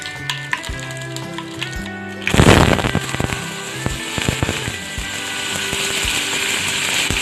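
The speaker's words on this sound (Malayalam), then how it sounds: "ഇനി കറിവേപ്പില ഇട്ട് കൊടുക്കാം." Curry leaves hit hot oil for a Kerala snack and burst into a loud, sudden crackling sizzle that settles into steady frying with scattered pops, close to the pan and free of speech.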